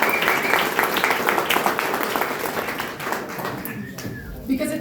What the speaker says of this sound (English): So please, just a round of applause for him.